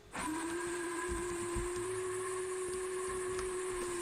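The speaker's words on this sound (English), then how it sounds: "He's a good loud whistle." A loud, sustained steam locomotive whistle in Garry's Mod blasts steadily with a hissing edge, holding one steady pitch throughout without a break.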